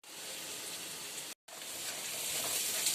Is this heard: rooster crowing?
no